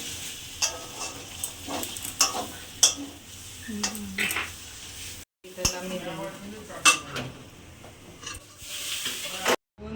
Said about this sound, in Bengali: দুপুরে রাখা আলু আর ফুলকপিটা দিয়ে দিলাম এবার তরকারিটা করে দেবো নামিয়ে নেব